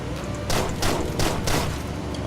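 Shotgun blasts from the video game Deadbolt, four loud booming shots spaced roughly evenly over two seconds against a dense background of game noise.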